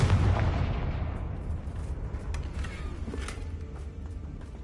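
In Hogwarts Legacy, the Confringo fire spell lands with a heavy booming blast that opens loud and deep, then rumbles and crackles away over several seconds, with scattered faint pops as it fades.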